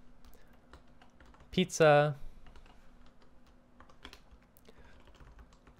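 Quick, light clicks of a computer keyboard pattering steadily while code is typed, with a short burst of speech partway through.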